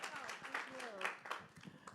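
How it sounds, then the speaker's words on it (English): An audience at a community action council evening meeting claps for a state representative; scattered, light applause sits under a speaking voice and never builds into a full ovation. "Come on, y'all clap for our state representative"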